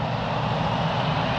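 A heavy airliner's jet engines roar in a steady, broad rumble during takeoff at Lisbon Airport, heard from a distance with no speech.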